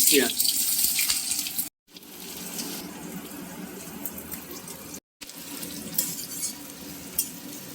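Whole dried red chillies, cumin seeds and bay leaves sizzling in hot mustard oil in a pan, a steady hiss with light stirring clatter, broken by two brief silent gaps.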